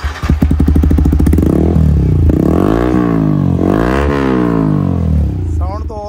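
A Yamaha R15 V4 motorcycle with a titanium full-system exhaust revs loudly up close, making two rising and falling throttle blips over a rough idle, with some clatter at the end.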